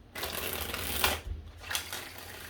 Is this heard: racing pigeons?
no